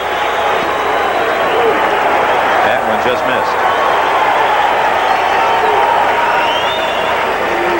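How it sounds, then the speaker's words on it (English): A baseball stadium crowd at a 1981 NLCS playoff game between the Expos and Dodgers keeps up a steady, distant roar with scattered cheering and applause, with a broadcaster talking over it. "Well, the crowd that stayed believes."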